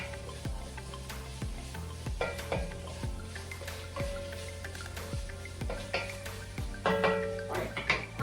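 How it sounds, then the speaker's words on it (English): Carrots, onions and garlic for a lamb stew sizzling in a pot, a soft steady frying hiss broken by repeated close knocks and scrapes of a utensil stirring against the pot. "Our carrots, onions, and garlic have been cooking down."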